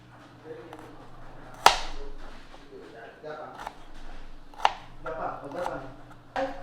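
A knife chops two onions for dinner on a board in a few sharp, separate strikes, with a person talking throughout.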